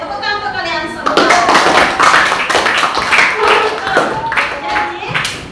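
Classroom applause after students share their impressions in a religious education lesson, a burst of clapping from several people lasting a few seconds, fairly close and loud, with a teacher's voice speaking over it.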